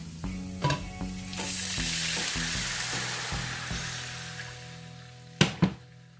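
Water poured into a hot pan of crispy honey pork, bursting into a loud steady sizzle that hisses on for several seconds, with a few clanks of a utensil stirring at the start and end.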